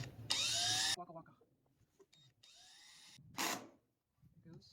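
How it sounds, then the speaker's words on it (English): Power drill driving screws into a replacement rocker panel on a Ford van during rust repair, two loud close whirring bursts with a fainter run between them, with clatter and quiet gaps. "Now we need to put screws in all of this."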